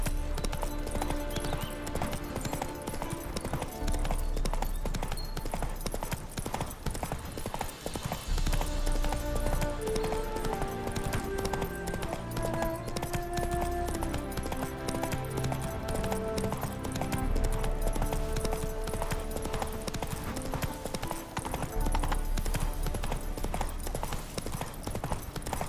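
Roach, Geralt's horse in The Witcher 3 on the Death March difficulty, moves with steady hoof clip-clop throughout, layered under continuous game music with a busy low rumble and no clear talking.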